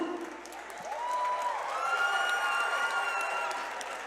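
A crowd at a Cage Titans Combat Night MMA event applauds and cheers after a three-round fight. The sustained clapping swells and holds steady, with scattered whoops and shouts rising above it across the arena.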